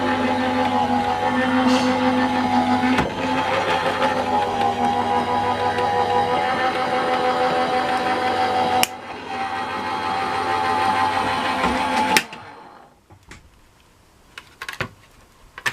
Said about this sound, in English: I just love this new Couture Creations Go Power and Emboss machine